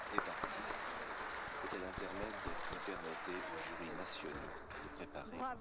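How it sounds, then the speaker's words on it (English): Studio audience applauding during the 1962 Eurovision Song Contest broadcast, a steady wash of clapping with voices talking over it throughout. "Everyone's just applauding that he got brought out."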